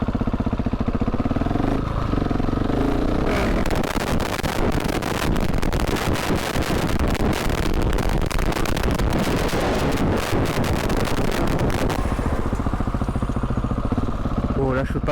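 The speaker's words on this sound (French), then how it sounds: "Je vous fais un petit wheeling vite fait, aller-retour." A Husqvarna 701 supermoto motorcycle revs hard through a second-gear wheelie, a loud, continuous engine roar close to the microphone with heavy wind buffeting and a rider talking over it.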